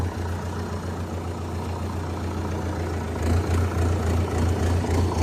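A tractor engine idles close by in a steady low rumble, with a strong low hum that swells slightly louder toward the end.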